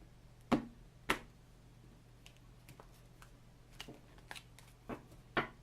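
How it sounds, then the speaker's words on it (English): A deck of tarot cards being cut and handled, several soft slaps and light clicks at irregular intervals, faint and close in a quiet room. "Let's not forget to cut the cards."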